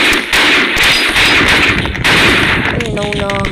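Rapid video game gunfire bursts loudly through a busy first-person shooter match, with thumps and overlapping shots; a player talks in Filipino.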